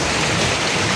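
Heavy rain pours steadily and loudly, a dense continuous hiss with no pauses, filling the whole second with no voices present.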